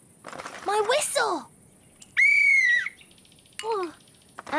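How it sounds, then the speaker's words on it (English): A small cartoon child's toy whistle gives a steady high tone lasting about half a second, framed by squeaky, chirpy cartoon vocal sounds before and after it. "My whistle."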